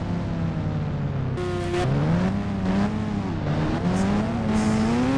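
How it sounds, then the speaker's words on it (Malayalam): A motorbike in a video game hums along at a steady drone, its engine pitch rising and falling as it changes speed, loud and close with no talk over it. "നമ്മുടെ ബൈക്കിലേക്ക് കയറിയിട്ടുണ്ട്."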